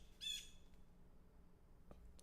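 A single short, harsh bird squawk rings out near the start, followed by quiet background hum and a faint distant call.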